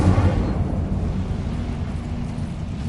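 A sustained roaring whoosh of an Incendio fire spell blast in Hogwarts Legacy, loud and heavy in the low end, steady for a few seconds with no talking over it.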